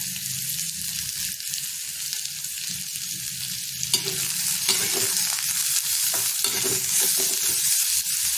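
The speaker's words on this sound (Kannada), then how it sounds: "ತೆಳ್ಳಗೆ ಹೆಚ್ಚಿರೋಂಥ ಒಂದು ಈರುಳ್ಳಿನ ಇದಕ್ಕೆ ಹಾಕ್ಕೊಂಡು ಸ್ವಲ್ಪ ಉರಿ ಜಾಸ್ತಿನಲ್ಲಿ ಬೇಗ ಫ್ರೈ ಮಾಡ್ಕೋಬೇಕು" Thinly sliced onion frying fast in hot oil on high heat, a steady close sizzle with intermittent stirring scrapes and clinks throughout, no voices.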